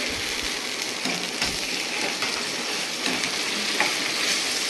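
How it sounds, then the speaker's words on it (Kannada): Ginger garlic paste frying in a pan gives a steady, dense sizzle with faint crackles and stirring scrapes throughout, close and fairly loud, with no talking. "ಹಸಿ ವಾಸನೆ ಎಲ್ಲ ಹೋಗಲಿ ಶುಂಠಿ ಬೆಳ್ಳುಳ್ಳಿ ಪೇಸ್ಟು, ಅಲ್ಲಿವರೆಗೂ ಫ್ರೈ ಮಾಡ್ಕೊಳ್ಳೋಣ"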